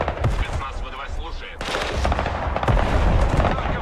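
Artillery and rapid gunfire crack and thump in the Broken Arrow military strategy game, a dense, continuous barrage of overlapping shots and blasts that grows heavier midway.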